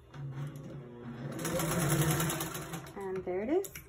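A Singer 201-2 sewing machine stitching through four thick fabric layers runs in a steady, close mechanical whir for several seconds, with a brief voice and squeaky tonal sounds near the end.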